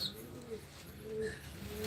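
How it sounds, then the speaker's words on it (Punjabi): Pigeons on a rooftop give soft, low cooing calls at a moderate distance, with a few faint chirps mixed into a quiet outdoor background. "ਕਬੂਤਰ ਜਿਹੜੇ ਹੈਗੇ ਆ ਉੱਪਰ ਨੀਵੇਂ ਹੋ ਰਹੇ ਨੇ ਵਧੀਆ ਉੱਡ ਰਹੇ ਨੇ"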